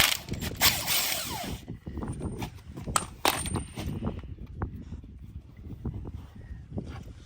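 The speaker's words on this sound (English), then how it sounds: "I finally get to use my new big Milwaukee sockets" Big Milwaukee impact sockets on a wrench working loose a greased bolt, heard as a run of close metallic clanks, rattles and ratcheting clicks with a few sharp knocks, no talking.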